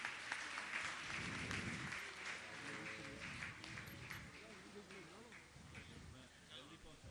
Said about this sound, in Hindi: आप लोग तालियां बजाएं